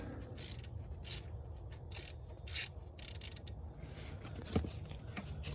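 A socket ratchet undoing the starter bolt on a 2009-2013 Toyota Corolla, quiet, irregular clicking bursts with soft metallic handling noises, close but faint.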